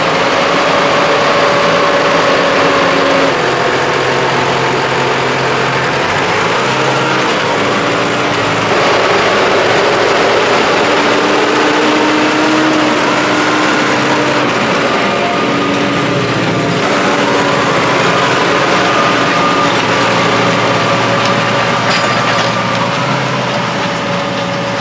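A blue tractor pulling a cultivator, its engine droning loud and steady throughout with no pauses, a continuous rumbling hum with faint higher whine.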